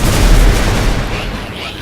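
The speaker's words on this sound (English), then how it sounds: "That was also a big explosion, which I happily didn't die from." A large in-game explosion in Magicka sets off a dense, loud low-end boom that rumbles on for nearly two seconds before tapering off slightly.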